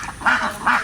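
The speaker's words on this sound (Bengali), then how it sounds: "হাঁস সবগুলো ডিম দেয়।" Ducks quack in two short bursts, fairly close and clear, with no talk over them.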